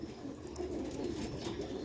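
Sialkoti pearl-eyed pigeons, light-weight birds, coo in a steady low murmur throughout, moderately close with no talking.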